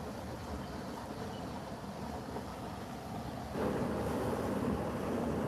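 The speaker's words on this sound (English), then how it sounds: "So this is the sound of water. It's going under the road." Water flows under a road in rural Japan as a steady, close rushing noise that grows louder and fuller partway through, with no voices present.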